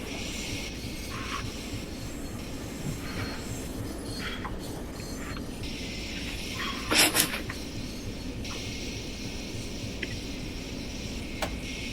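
A Long Island Rail Road commuter train in a railway sim game slowly pulls into New York Penn station, with a steady rumbling hum, light clicks and a brief squealing burst of brakes or wheels midway.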